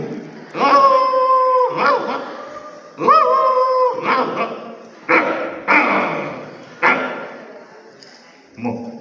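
A voice imitates a dog, letting out a series of drawn-out barks and yelps in uneven bursts, close and loud.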